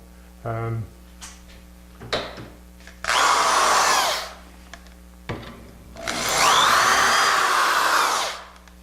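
A power drill bores into wood for a table frame in two long, loud bursts, with brief clicks and quieter handling noises between them.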